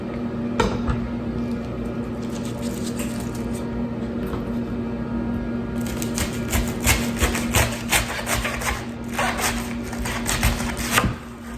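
A knife slices through a purple cabbage on a cutting board over a steady background hum, with a run of crisp, closely spaced cuts and crunches growing busier in the second half.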